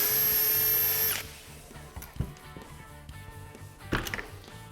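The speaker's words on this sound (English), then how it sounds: "So you can drill those at the same time." A power drill boring screw holes for a door hinge through a jig, one loud high whine for about a second, then stopping, followed by handling clicks and knocks.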